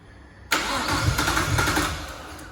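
A Nissan R33 with an RB25DET engine cranks and fires up suddenly, then settles into a loud, slightly uneven idle close by, with no talk over it.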